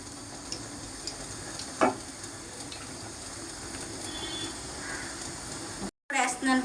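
Oil sizzling in a pan at the start of cooking a brinjal, raw mango and dried prawn curry, a steady hiss with a few clinks and stirring sounds, and a voice speaking over it.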